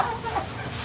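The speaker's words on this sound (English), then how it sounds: "Get out of here, chickens." Chickens clucking in short, scattered calls close by over a steady noisy background, with no clear talk.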